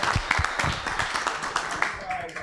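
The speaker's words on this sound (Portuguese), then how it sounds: "Uma salva de palmas ao nosso treinador aí." Clapping for a football team's coach at a celebration of Canabarrense's intermunicipal championship, quick irregular hand claps mixed with voices talking over them, moderately close and fairly quiet.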